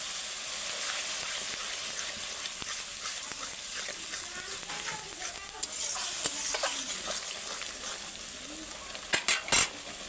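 Spice masala for a green jackfruit curry frying in a pan as sour yogurt goes in, a bright continuous sizzle under repeated scraping and stirring strokes, with a few sharp metallic clatters near the end.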